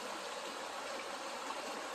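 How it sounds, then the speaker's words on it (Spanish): Small river rising with more water, a faint, steady broadband rush of flowing stream water heard from a distance, continuous and unbroken, with no voices. "cuando el río está aumentando de agua."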